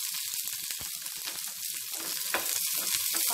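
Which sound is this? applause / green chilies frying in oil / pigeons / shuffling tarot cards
green chilies frying in oil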